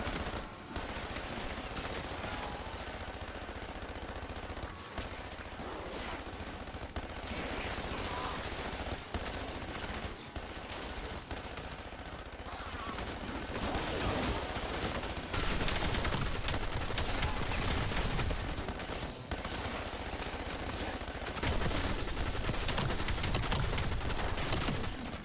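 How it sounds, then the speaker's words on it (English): A sentry turret in Call of Duty Zombies firing almost continuously, dense rapid gunfire mixed with scattered shots and explosions at steady volume, rising slightly toward the end. "Sentry turret operation."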